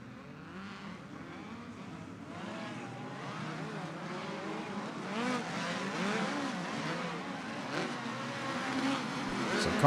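USAC race cars bring their engines up to speed at Ventura Raceway during a Turkey Night Grand Prix. A continuous roar from several engines rises and falls with revving pitch and slowly grows louder, heard from a distance with no voices.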